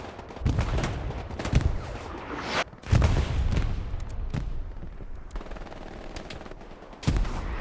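Rapid gunfire from the World War II shooter Hell Let Loose in a Hurtgen Forest battle, loud sustained bursts of automatic and rifle fire with brief gaps between volleys, no talking.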